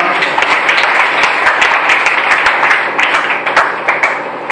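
A church congregation applauding, a dense, loud and sustained burst of many hands clapping together with some scattered cheers in the crowd.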